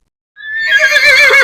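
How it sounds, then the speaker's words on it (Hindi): A horse neighs as a moneylender rides in toward a village, a loud, wavering whinny that rises out of silence and carries on strongly to the end. "दूर से घोड़े की आवाज आती है।"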